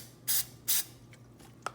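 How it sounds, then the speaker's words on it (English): Pam cooking spray hisses into a mug in two short, sharp bursts close up, followed by faint light clicks and a small tap. "Just gonna spray my mug."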